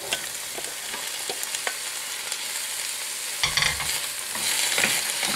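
Green beans are stirred in a hot frying pan under a constant loud sizzle, with a spatula repeatedly scraping and clattering against the pan. A heavier scrape and toss comes near the end.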